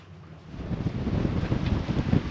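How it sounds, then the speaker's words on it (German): Strong wind of about 18 knots buffets the microphone while a sailing yacht runs along the northwest corner of Amanu atoll, a steady loud roar with gusting surges and rushing water beneath, no voices. "Wir segeln bei 18 Knoten Wind entlang der Nordwestecke vom Amanu-Atoll"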